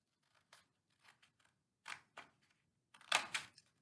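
Scissors snipping through paper in several short, quiet cuts, isolated at first and then in closer pairs, with no talking.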